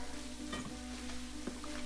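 Metal utensil stirring and scraping across the bottom of a cast iron pan with breakfast cooking, a steady sizzle underneath and a few soft scrapes, no voices.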